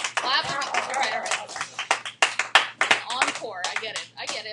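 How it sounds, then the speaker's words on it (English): Math class clapping in a classroom, a burst of scattered overlapping claps mixed with students talking and laughing, the clapping uneven and fairly close. "Clap if you would like to jump straight into homework."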